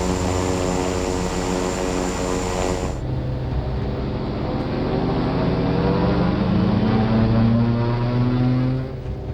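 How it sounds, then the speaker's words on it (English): Twin aircraft engines captured on a cockpit voice recorder drone steadily and loudly, with layered humming tones that shift partway through as the two engines run at different power levels; no voices are heard. "Can you try and just bring up the engine sounds?"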